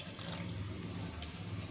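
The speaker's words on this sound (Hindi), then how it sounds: "अब इसमें एक बार आधा कप पानी और डाल देंगे हम" Water poured into a bowl of instant rava idli batter, a soft steady trickle running throughout at low level with no talking.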